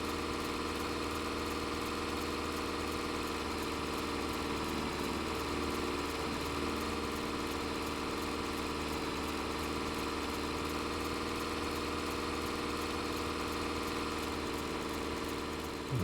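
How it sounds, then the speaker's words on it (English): A tractor engine in Farming Simulator drones at a steady high rev, moving at about 5 mph, loud and continuous with a constant buzzing hum and no pauses. "That is pretty loud. It has got that tractor wound out."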